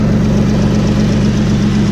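A car engine idles steadily with a low, throbbing exhaust note and a rhythmic puffing from an exhaust leak, loud and close, with no talk over it.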